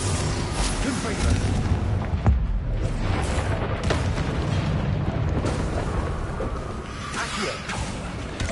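An explosive Confringo spell blast erupts in the Hogwarts Legacy video game during combat. Dense booming rumble and whooshing bursts fill the scene continuously and loudly, with no pause.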